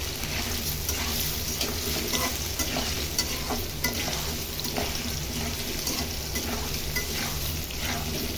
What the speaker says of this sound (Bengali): আমার আলুটা ভাজি হয়ে গিয়েছে।